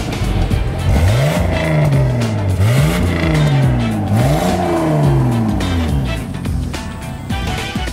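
A 1986 Toyota Cressida MX73 engine revs loudly up and down in three repeated surges, heard close throughout.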